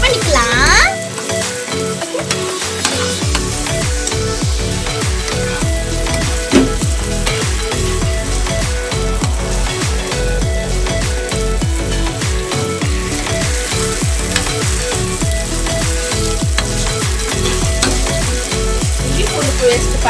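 Ginger garlic paste fries in a pan while being stirred, a loud, continuous sizzle broken by rhythmic scraping strokes of a spoon against the metal, with no talking.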